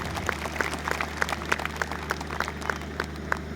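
A few people clap at a Hindi comic poetry gathering, making faint, sparse, roughly rhythmic individual claps over a low background hum.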